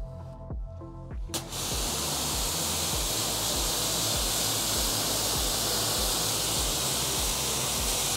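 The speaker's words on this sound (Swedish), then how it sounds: "Och sen är det bara att spola av med högtryckstvätten, så kör jag det nu." Pressure washer spraying water to rinse off a tire, a loud steady broadband hiss that starts abruptly after a brief quiet moment and runs continuously to the end.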